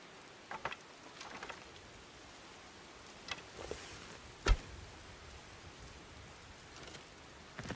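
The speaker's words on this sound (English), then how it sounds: "Oh, it's just starting to rain." Light rain beginning to fall in the video game Skyblivion, a soft steady hiss with a few scattered sharper drops and one brief louder tap, fairly faint and without talk.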